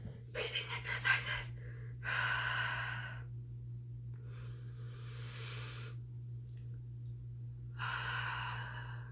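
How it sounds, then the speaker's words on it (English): Slow, deep breaths during breathing exercises, with a few shaky sniffing inhales followed by long, audible exhales spaced a few seconds apart, close to the microphone over a steady low hum. "Breathing exercises."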